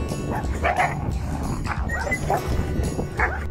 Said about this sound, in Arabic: نلاحظ هنا أن ذئب آخر هاجم كلب ماستيف من الخلف